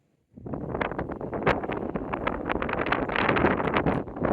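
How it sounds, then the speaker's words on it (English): Gusty wind on the Natchez Trace buffeting a microphone close up, rumbling and crackling in uneven bursts after a quiet start. "And it is windy."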